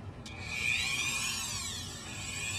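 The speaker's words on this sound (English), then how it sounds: "You don't have to drill all the way through it, just enough to cut some plastic out of there" A small drill bites into a plastic slot car chassis with a high, rising whine, one short continuous run, close and steady.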